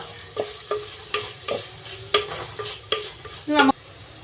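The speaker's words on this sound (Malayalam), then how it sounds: "ഇത് നമുക്കൊന്ന് വഴറ്റി കൊടുക്കാം നല്ലതുപോലെ" Sliced onions sauté in a pan for Kerala-style crab roast, a soft sizzle punctuated by regular scraping stirs about every half second, close up, ending in a louder scrape, with no talking.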